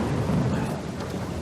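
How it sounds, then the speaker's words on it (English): Heavy rain pours down with a deep, steady rumble of thunder in Uncharted 4, a dense, continuous roar that stays loud throughout, with no talking. "The rain was pouring so hard that you can see like curtains of rain moving across the sand, the grass, the stone"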